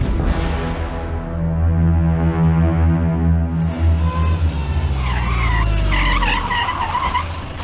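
A car brakes hard on a road and skids to a stop, with the engine droning, then loud tire squeal rising and warbling before it halts.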